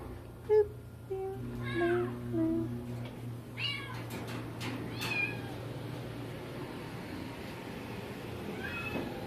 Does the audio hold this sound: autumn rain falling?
no